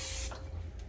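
A short, close hiss of cooking spray fills a mixing bowl before bread dough goes in, one brief burst trailing off into quieter spray.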